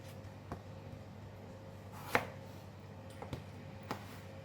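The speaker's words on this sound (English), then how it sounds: "Cut into half and cut into quarter." A kitchen knife cuts boiled chicken into halves and quarters, making a few sharp, isolated chops against a board, one louder strike among softer ones over a faint background hum.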